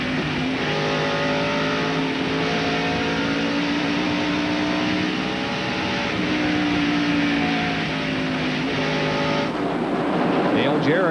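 NASCAR stock cars race in the 1995 Goody's 250 broadcast, a loud continuous multi-engine roar with shifting pitches as cars pass, under commentary.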